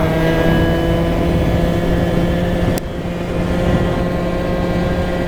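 A modified, power-boosted 50cc scooter engine runs hard and loud close by, holding a steady, buzzing drone with a brief dip partway before it picks back up.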